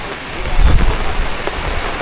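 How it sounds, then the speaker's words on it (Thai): Heavy rain pours down in a storm, a dense, continuous hiss with a low rumbling swell, loud and close for a couple of seconds. "ฟ้าฝนมาเอง"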